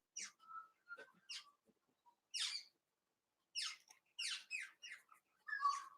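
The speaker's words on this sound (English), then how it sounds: "there are parrots out there that you can hear at the moment. They come down for the grass seeds." Parrots feeding on grass seeds just outside give sharp chirps and screechy calls in scattered bursts, some single and some in quick clusters, against a quiet background.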